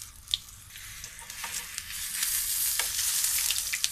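Eggplant frying in oil in a pan over medium-low heat, a continuous close sizzle with scattered small pops and crackles that build slightly in intensity.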